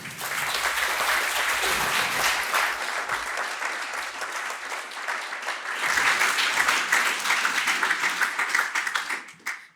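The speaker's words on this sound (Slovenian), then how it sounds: "Prosim, pozdravimo jo z močnim aplavzom." An audience at a university awards ceremony applauds a speaker with sustained, dense clapping from a large crowd that swells and then fades out at the end.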